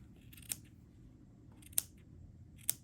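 Scissors snip crochet yarn in three short, crisp cuts spaced about a second apart, faint and close over a low background hum.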